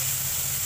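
Onions frying in a little oil for Assamese egg curry with ripe banana give a steady, close sizzle, loud and unbroken through a very short moment.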